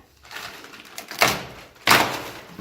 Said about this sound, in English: There's the elevator door.